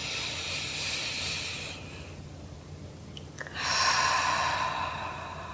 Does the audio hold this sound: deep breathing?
yes